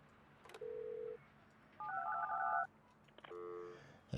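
Phone dialing tones from the building sim Project Highrise: a single steady beep, then a warbling two-tone burst, then a rapid run of dial tones, each clear and isolated over low background hum.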